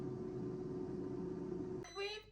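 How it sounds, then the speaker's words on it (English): An air fryer cooking steak beeps briefly near the end, a short burst of high electronic tones rising over the steady hum of the running fan. "We've beeped."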